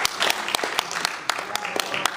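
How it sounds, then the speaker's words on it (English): Crowd at a town hall with Governor Corbett breaks into scattered applause, uneven claps rising and falling for a couple of seconds, with voices murmuring underneath. "Nice round of applause for him leaving on his own"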